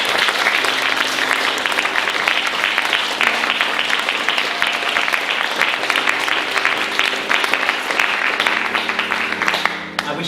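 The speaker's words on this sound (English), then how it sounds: "Please give them both a round of applause." Loud, sustained applause from a large audience, steady clapping filling the whole stretch without a break.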